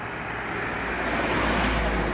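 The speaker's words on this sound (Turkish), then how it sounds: "Sesin duyulmuyor arabalar geçiyor ya." Steady road traffic with cars passing nearby, a continuous broadband rush that swells slightly toward the end, with no voices.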